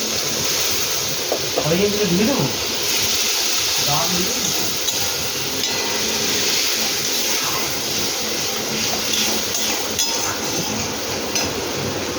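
Water poured into a pan of frying cumin, giving a loud continuous sizzling hiss with faint clinks, steady throughout with speech-like murmurs underneath.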